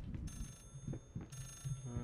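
A telephone in the horror video game Layers of Fear rings faintly in short repeated bursts, its bell tones pulsing in a steady rhythm against a quiet low background.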